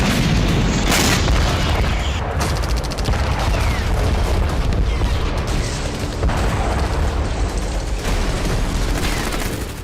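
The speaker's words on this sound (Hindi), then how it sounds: "रूसी जेट सुखोई 34 और सुखोई 35 FAB बम से न सिर्फ डिफेंस सिस्टम तबाह कर रहे हैं" FAB bombs dropped by Russian Su-34 and Su-35 jets striking Ukrainian targets, a dense, continuous roar of heavy booms and rumbling blasts, loud and sustained throughout with no speech.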